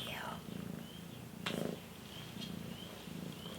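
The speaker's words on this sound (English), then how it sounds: "She's like purring her little heart out" A cat purring softly up close, a low continuous rumble with a brief louder rustle midway and faint whispery sounds above.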